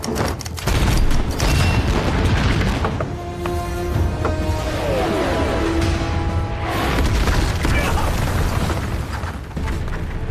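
Rocket artillery bombardment in a war film, a dense continuous barrage of booming explosions and rumbling blasts that stays loud and sustained throughout, with no talk over it.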